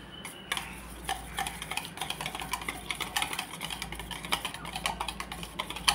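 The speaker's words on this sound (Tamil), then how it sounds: "இப்போ நம்ம அடித்து வச்ச முட்டையில் இந்த ரவா மிக்ஸை கொஞ்சம் கொஞ்சமாக மிக்ஸ் பண்ணிடலாம்." Rava mix is stirred into beaten egg in a bowl, with rapid, irregular clinking and scraping of a utensil against the bowl, fairly quiet and close, no talking.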